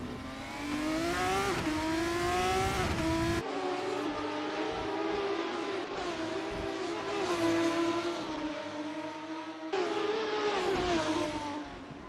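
Race cars in a Monaco sim race in a video game scream through the streets with high, wavering engine tones and shifting pitch, the sharp engine whine continuous and loud; a brief lock-up is not clearly distinguishable.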